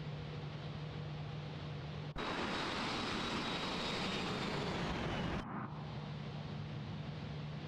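Fokker F28 jet climbing after takeoff in Microsoft Flight Simulator 2024 on a gusty morning, a loud broad engine roar that swells abruptly for a few seconds over a steady hum, then drops back.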